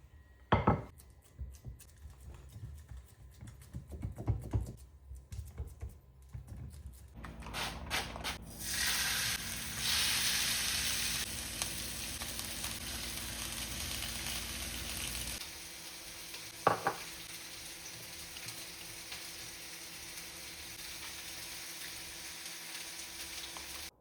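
A beef burger patty sizzles in a hot pan, a steady frying hiss that swells after some early clatter and knocks, then settles to a quieter sizzle with an occasional clunk.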